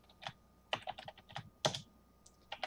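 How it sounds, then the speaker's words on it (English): Quick, uneven keystrokes on a computer keyboard entering DOSBox commands, close and quiet, in short bursts with small pauses between. "we're just going to type these three commands here"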